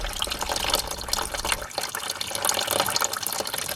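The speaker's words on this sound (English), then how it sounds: "By opening the spigot, we can empty the freshwater." Water drains from a campervan's freshwater tank through an outside drain spigot, a continuous splashing, gushing flow close by that briefly drops in its low rumble partway through.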